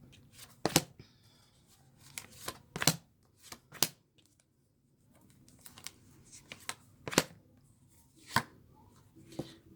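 Tarot cards being shuffled and pulled from the deck, giving a series of sharp, close papery snaps and riffles in irregular bursts, with a brief quiet gap partway through.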